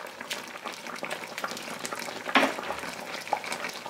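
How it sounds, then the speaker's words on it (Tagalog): Tilapia simmering in coconut milk bubbles and sizzles close by as onion is added, with a brief clatter of the onion dropping into the pan midway. "Ngayon naman po, lalagyan na po natin ito ng gata. Una ay ilagay po natin ang sibuyas."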